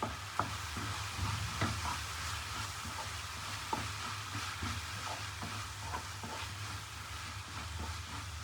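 Egg biryani mixture with coriander and curry leaves being stirred in a pan, soft scraping strokes and occasional clinks over a low frying sizzle, quiet and close.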